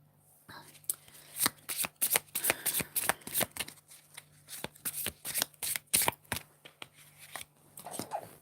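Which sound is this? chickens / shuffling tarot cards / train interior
shuffling tarot cards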